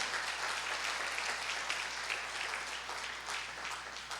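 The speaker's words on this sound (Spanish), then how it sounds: "Aplauda si quiere aplaudir" A church congregation applauds at a family worship service with steady, dense clapping that fills the space and holds at an even level throughout, with no voices rising above it.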